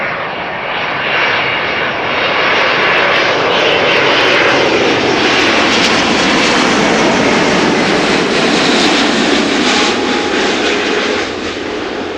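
A Boeing 777 widebody jet arriving at Amsterdam Schiphol Airport, its engines producing a loud, sustained roar that holds close and steady throughout, with no talk over it.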